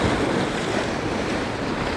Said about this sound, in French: là il y a de la vague ici.